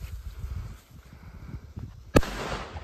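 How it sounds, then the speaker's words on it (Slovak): A Doom Boom Big F2 Silver firecracker goes off with a single sharp, loud bang a couple of seconds in, after low rumbling and handling noise outdoors, followed by a brief fading echo. "Ako poslednú petardu tu máme Doom Boom Big F2 Silver"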